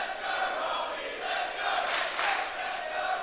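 A home crowd at a WSW Australian Championship wrestling match cheers for Robbie Eagles, a steady, loud roar of voices with two brief swells of shouting near the end.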